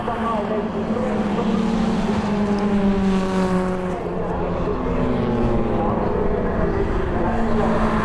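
Stock hatchback race cars at Cadwell Park, several engines droning and shifting pitch together as they chase through a corner, loud and continuous under commentary.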